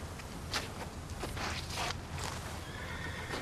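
A horse, an East Frisian draft breed, moves about with hoof steps and soft whinnying sounds at close range; no one speaks.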